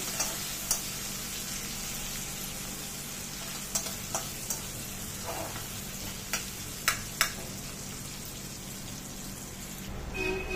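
Vegetables, green chillies and tomatoes sizzle steadily in a frying pan, and occasional sharp clicks and scrapes come from the stirring spoon over the constant hiss.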